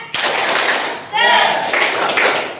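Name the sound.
class clapping a spirit clap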